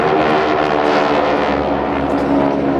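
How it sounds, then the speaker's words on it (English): GEICO Skytypers aircraft roar past in Delta formation at an airshow at the 2010 Joint Services Open House, a loud, dense propeller-engine drone that holds steady and overlapping for the whole stretch. "As they maneuver in their Delta formation"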